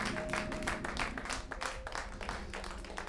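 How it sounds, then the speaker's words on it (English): A church congregation claps along in praise, a dense, steady wash of many hands clapping with some voices and music mixed underneath, moderately loud and continuous. "Clap your hands and let's give God a praise today."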